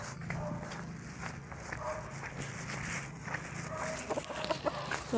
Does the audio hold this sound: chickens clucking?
yes